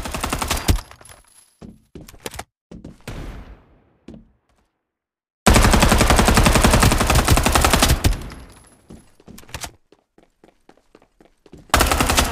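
Rapid automatic gunfire in the battle game Farlight 84, with loud sustained bursts broken by short gaps, scattered single shots and a moment of silence.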